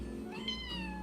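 A single drawn-out cat meow that rises and then falls in pitch, clear and close over a low steady background hum.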